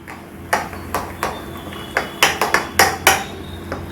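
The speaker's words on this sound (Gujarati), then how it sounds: "હવે એને મિક્સ કરી લઈશું." Spoon knocks against a bowl while bottle gourd cheese uttapam batter is mixed, a series of sharp irregular taps close by, with no talking.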